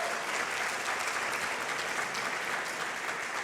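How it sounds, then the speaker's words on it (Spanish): A church congregation claps steadily and densely for the Lord during a Spanish-language service, a continuous wash of applause from a full room that holds its level throughout without any talk. "Le damos un aplauso al Señor."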